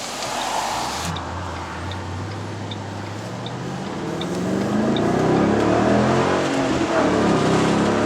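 A 2008 Ford Bullitt Mustang drives along a main road, its engine note rising steadily as it accelerates, loud and close, with steady road noise and faint ticking in the cabin.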